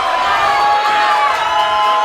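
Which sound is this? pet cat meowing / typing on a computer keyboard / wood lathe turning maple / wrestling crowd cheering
wrestling crowd cheering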